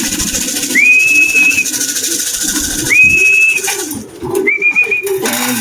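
Six pet birds give three clear, drawn-out whistled calls spaced a couple of seconds apart over a soft background of chatter and movement.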